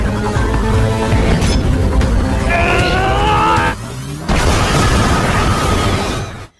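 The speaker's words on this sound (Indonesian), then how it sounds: "Inuyashiki marah besar dan meledakkan Hiro dengan kekuatan penuh." Explosion from the animated film Inuyashiki, with a sustained loud roaring blast and rumbling debris filling the whole stretch, briefly cut off midway before resuming equally loud and fading out at the end.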